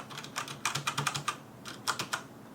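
Typing on a Logitech G710+ mechanical gaming keyboard with MX Red switches: quick, fairly soft key presses in short irregular bursts, close up with no talking.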